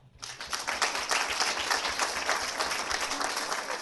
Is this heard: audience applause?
yes